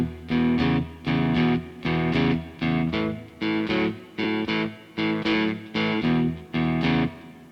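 Electric guitar playing a shuffle groove with changing chords, short choppy strums in a steady swung pattern of repeated bursts, slightly distorted, close and alone.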